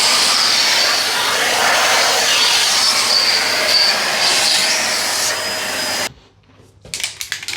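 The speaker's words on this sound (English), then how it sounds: "now I'll just vacuum it" Vacuum cleaner running over an aluminum sliding window track, a steady loud whine and rush that cuts off abruptly near the end, followed by faint clicks and handling noises.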